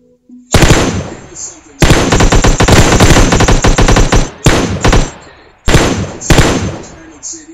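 Loud close bursts of automatic gunfire from the PUBG video game come in several rapid volleys separated by short silences, with no talk over them.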